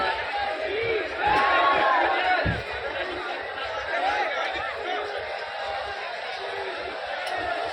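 A dense crowd packs Deshnok railway station, with steady overlapping chatter and babble, scattered laughs, close voices over a continuous hubbub.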